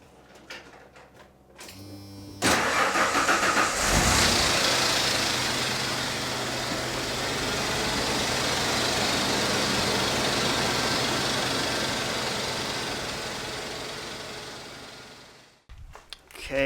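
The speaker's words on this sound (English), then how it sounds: "I don't have the engine running, but once I start that up" A car engine cranks and catches, then settles into a loud, steady idle that drones on evenly before cutting off near the end.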